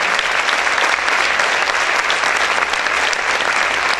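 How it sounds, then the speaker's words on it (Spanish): Loud, sustained applause from a church congregation during a Spanish-language sermon, a dense continuous roar of clapping hands close by, with no speech over it. "Ese aplauso para el Señor, déselo fuerte."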